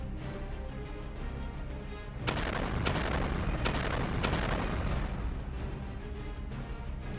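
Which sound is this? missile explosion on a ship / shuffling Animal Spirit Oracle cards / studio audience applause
missile explosion on a ship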